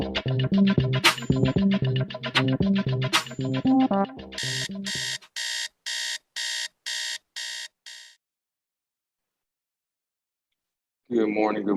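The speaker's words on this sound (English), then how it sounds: "That alarm clock is what woke us all up this morning." An alarm clock rings loudly, first a dense jangling chime pattern, then seven evenly spaced bright electronic beeps that stop, followed by silence and a brief voice at the end.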